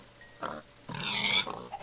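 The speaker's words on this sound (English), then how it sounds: "There's a lot of freaking pigs here. Holy pigs." Pigs oinking in Minecraft, several short grunting bursts spaced across two seconds, fairly close and moderately loud with no talk over them.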